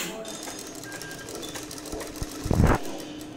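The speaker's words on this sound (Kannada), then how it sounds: "ಟಾಪ್ ಸೈಡಿಂದ ಪೀಸ್ನ ಫ್ಲ್ಯಾಟಾಗಿ ಇಟ್ಕೊಂಡು ಸ್ಟಿಚ್ ಮಾಡಿ." A sewing machine stitching a blouse piece held flat from the top side, a short run of rapid mechanical stitching near the end after quieter handling sounds.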